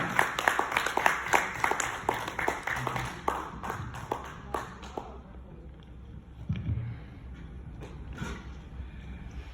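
At a corporate gathering, an audience applauds to welcome a speaker. The loud burst of clapping fades within a few seconds into scattered claps and quieter room sound, then a brief voice.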